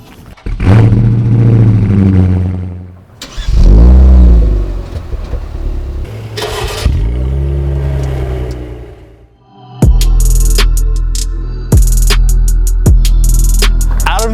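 Kia Stinger with a 3.3-liter twin-turbo V6, a Dodge Charger and a Cadillac CT5-V accelerate hard in a drag race, with loud engine roars rising through the gears and sharp shift breaks, close and unbroken.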